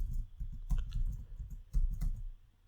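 Keys clatter on a computer keyboard as text goes into a web form, several quick clusters of close, soft clicks with short pauses between them and no talking.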